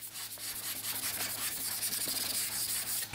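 Wood filler sanded by hand with 150-grit sandpaper, a close, steady rhythmic scratching rub repeating for a few seconds with no voices.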